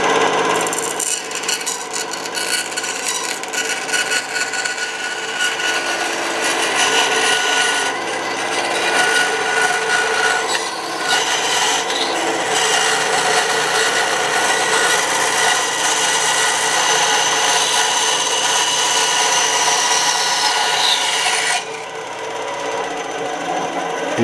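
A belt sander grinds steadily against wooden guitar necks in a workshop, a loud continuous abrasive roar that varies slightly as the wood is pressed, then cuts off near the end with no speech.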